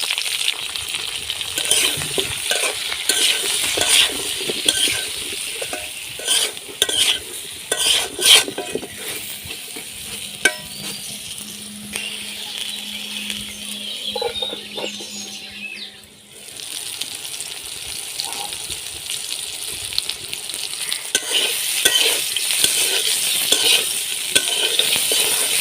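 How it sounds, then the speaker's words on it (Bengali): Round slices of pointed gourd fry with salt and turmeric in oil, a continuous loud sizzle broken by stirring clatter and scraping, briefly dipping before picking up again. "পটল লাল লাল করে ভেজে নিয়েছি"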